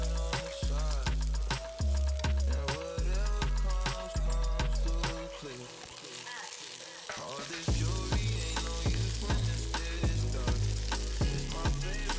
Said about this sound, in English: After about 5 minutes of sauteing